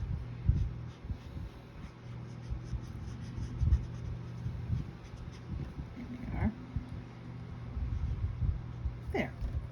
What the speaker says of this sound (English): This is more or less just rough sketching, marking out where things go.